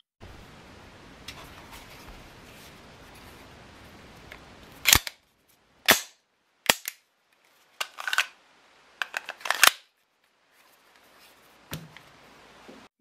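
An airsoft pistol rattles faintly when shaken and then gives a few sharp, close metallic clacks as its slide is racked, separated by brief quiet gaps.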